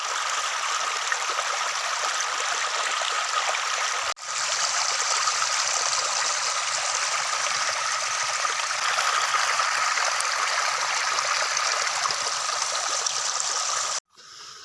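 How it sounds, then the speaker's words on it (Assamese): Water flows steadily along a village stream beside a river, a continuous close rushing and trickling that runs unbroken, with only a brief dropout near the end. "পানী বৈ গৈছে চক এইফালে, সেইফালে পানী বৈ বৈ বৈ বৈ বৈ বৈ এইফালে গৈ নদীত পৰিছেগৈ।"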